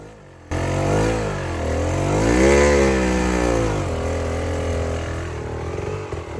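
A dirt bike engine bursts into loud, close revving while the rider climbs a big rock on a trail, with the pitch rising and falling through sustained throttle before settling into a steadier drone.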